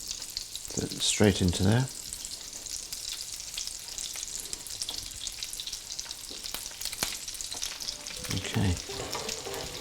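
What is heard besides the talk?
crab cakes frying in melted butter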